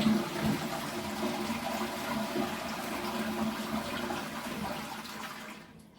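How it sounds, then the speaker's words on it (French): A Geberit wall-hung toilet flushes with a steady rush of water that fades out near the end, heard up close in a quiet bathroom with no talk. "Vérifiez pour terminer que la petite chasse d'eau et la grande chasse d'eau fonctionnent correctement."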